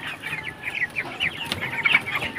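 Broiler chickens about 19 days old cluck on a farm, giving a busy chorus of short, overlapping calls at close to moderate distance with no talking.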